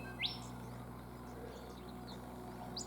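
Birds in Ravensbourne National Park, Queensland, give a couple of brief high chirps, one near the start and another near the end, over a faint steady background hum.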